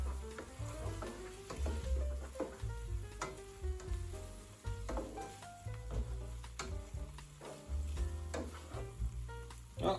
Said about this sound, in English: Stirring, of course.